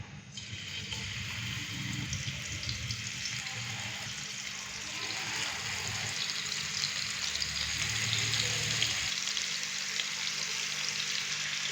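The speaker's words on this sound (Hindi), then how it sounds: "अभी मैं इसके अंदर फिश के पीस डालूंगा।" Fish pieces dropped into hot cooking oil in a kadai sizzle and crackle steadily, a bright continuous frying hiss close up that swells slightly toward the end.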